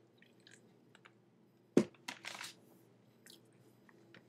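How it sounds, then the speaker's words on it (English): Someone takes a sip from a drink at a desk, a short close slurp followed by a brief swallow and faint liquid sounds in an otherwise quiet room. "I have a drink here I'm going to sip on occasionally."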